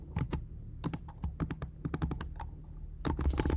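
Keys clatter on a computer keyboard in bursts of close, crisp taps with short pauses between runs, as someone types out code.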